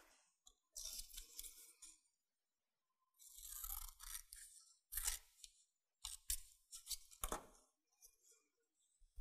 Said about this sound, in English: Then we would cut up to but not through this dart tip and tape this dart shut.